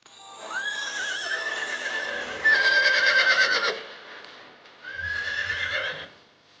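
Horses whinny in long, wavering neighs as a sound effect in a fairy-tale telling, one call after another, with light rhythmic clip-clop of hooves mixed underneath, close and clear.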